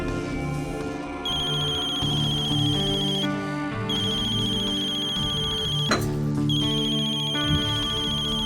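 A telephone rings with a steady electronic ringtone, sustained tonal beeps repeating over a low background music bed, loud and close, with no talking.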